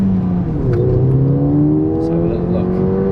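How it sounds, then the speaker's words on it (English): Ford Fiesta ST engine heard from inside the car as it drives and accelerates, a steady loud drone with rising engine tones, close and continuous. "we're out in the ST now. Take it for its first little drive."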